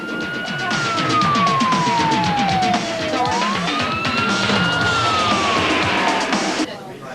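An ambulance siren wails close by with long rising and falling sweeps over engine and traffic rumble, loud and continuous throughout.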